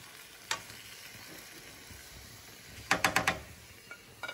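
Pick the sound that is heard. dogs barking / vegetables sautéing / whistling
vegetables sautéing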